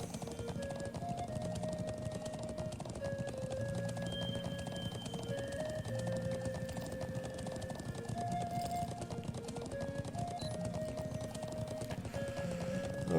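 Horse hooves clip-clop at a steady galloping pace throughout a role-playing game scene in Trails of Cold Steel, with sustained game music tones underneath and no talking.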